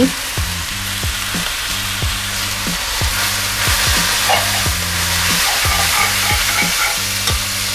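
Water spinach (morning glory) stir-fried with oyster sauce and seasoning fish sauce, loud close sizzling with rhythmic spatula strikes and scrapes against the pan repeating steadily throughout.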